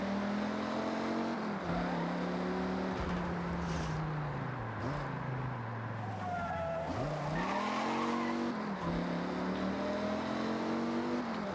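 Dodge Ram SRT10 pickup's V10 engine driven in the racing game Forza Horizon 6, a loud continuous growl rising and falling through gear shifts, with tire squeal and skidding layered over it.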